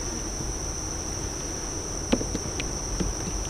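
Honeybees in an opened beehive humming loudly and steadily in a high drone, with a few soft clicks and taps from the frames close by.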